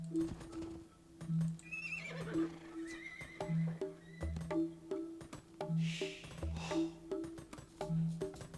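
Horses whinny and neigh repeatedly over steady game music in Age of Empires 2, with occasional hoof clops and rustling; no talking.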